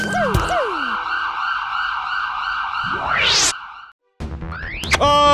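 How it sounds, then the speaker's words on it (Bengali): A police siren wails loudly and steadily, then sweeps sharply upward, cuts out for a moment and returns with rising whoops, with no voices. "এই, এটা পুলিশের সাইরেনের আওয়াজ না?"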